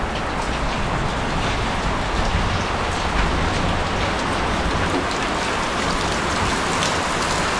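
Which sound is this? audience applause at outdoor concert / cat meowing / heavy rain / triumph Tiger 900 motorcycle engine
heavy rain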